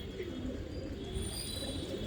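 A pair of red-marked pigeons coo faintly and continuously beneath a constant low background hiss, with no voices heard.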